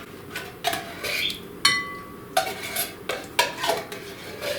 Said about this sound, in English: I'm going to spoon this into my bowl